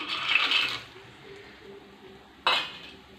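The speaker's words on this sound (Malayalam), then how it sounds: "ഉണക്കി കൊണ്ടുവന്നിരിക്കുന്ന കപ്പ നമുക്ക് എണ്ണയിലേക്ക് കുറേശ്ശെ ഇട്ട് കൊടുക്കാം." Dried cassava pieces dropped a little at a time into hot coconut oil, giving two short bright bursts of sizzling close up, separated by a quieter simmer, with no voices.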